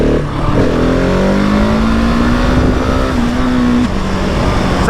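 A 2020 Husqvarna 701 SM single-cylinder motorcycle accelerates hard in first gear on an open road, its loud engine note climbing steadily in pitch for about four seconds before a brief drop, close and continuous throughout.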